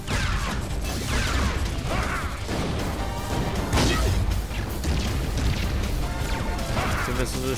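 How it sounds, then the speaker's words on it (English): Missiles slamming into the player in Angry Birds Transformers, a dense run of crashes, thuds and blasts over continuous loud game music and effects, with a voice talking over the action. "Missiles just shot me."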